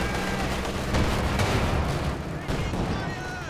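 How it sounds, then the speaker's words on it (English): A bundle grenade goes off amid dense, continuous gunfire and artillery in the Company of Heroes 2 video game, a loud thump folded into a busy, rumbling battle din. "big bundle grenade"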